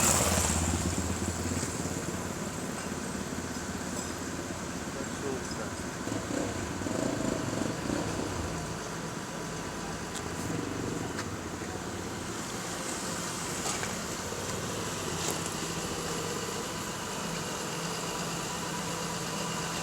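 Motorcycles on a suburban road, engines droning and idling at moderate distance with a steady rumble and occasional revving swells, fairly faint and continuous with no talk.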